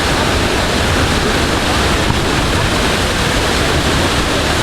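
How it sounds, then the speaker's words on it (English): La Fortuna waterfall in Costa Rica pours with a loud, steady roar of rushing water, broadband and unbroken from start to finish, close and filling the whole scene. "this is probably the most famous and most popular waterfall in all of Costa Rica"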